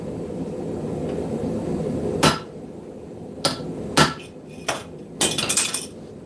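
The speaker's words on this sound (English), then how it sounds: "we're going to hang it off the anvil, and we're going to do a notch." Hammer blows on steel hung off an anvil while forging a notch, a few sharp ringing strikes spaced irregularly, close and loud against a low shop hum.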